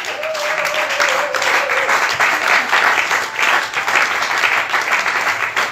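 A church congregation at a French-language sermon bursts into sustained, loud applause and cheering for Jesus, a dense wash of clapping with a brief whistle-like tone early on.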